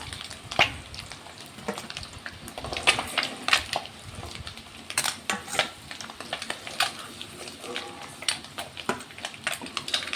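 Eggs fry in a pan, sizzling softly beneath repeated scraping and stirring clatter from a utensil against the metal, close and irregular, with no talking.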